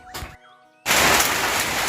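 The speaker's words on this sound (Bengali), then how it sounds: "তো বৃষ্টি তো কমছে না" Heavy rain falling outside a small hut, a dense, steady wash of noise that starts abruptly after a brief quiet gap and carries on loud and even.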